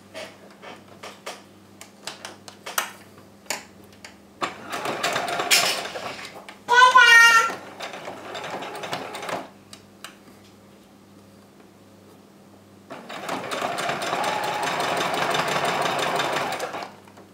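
Domestic sewing machine stitching a seam on fabric for a wrap, two bursts of fast rhythmic whirring separated by pauses, with scattered ticks and a voice briefly in between.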